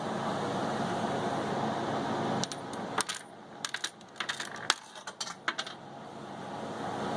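Coins dropping into a cone-shaped piggy bank, a cluster of sharp metallic clinks and rattles in quick irregular succession midway through, close and fairly clear over a low steady background hum.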